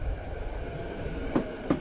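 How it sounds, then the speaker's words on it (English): Train carriages rumbling steadily on the rails beyond a long tunnel at a small station, with two brief metallic knocks near the end and no voices. "The train stopped beyond a long tunnel."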